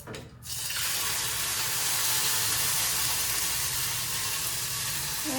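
Onions sizzle in a hot pan during a home cooking challenge, a steady loud frying hiss that starts abruptly after a brief moment and holds evenly throughout, with no talking.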